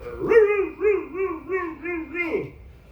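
A voice imitates a dog in a string of about five rhythmic, whining yelps and barks that rise and fall in pitch, loud and close, ending in a short drawn-out howl.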